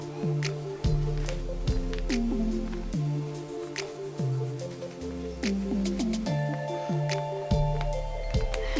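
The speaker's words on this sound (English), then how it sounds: "I'm just gonna get all the excess water out, and then I'm just gonna have paint on it." Wet fabric soaked with paint is repeatedly squeezed by hand to wring out excess water, giving soft, rhythmic squishing and dripping sounds at a steady pace, close and fairly quiet.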